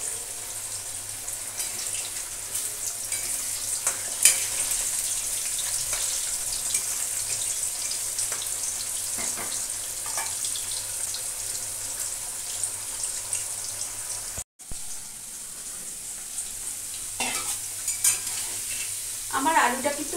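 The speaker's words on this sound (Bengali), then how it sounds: "আমার আলুটা কিন্তু ভাজা হচ্ছে, এক পিঠ ভাজা হয়ে গেছে, এবার আরেক দিকটা ভাজা হচ্ছে।" Potato pieces frying in oil in a pan, being cooked for a thin Bengali potato and mutton curry, sizzling steadily and close up with occasional stirring and no talk.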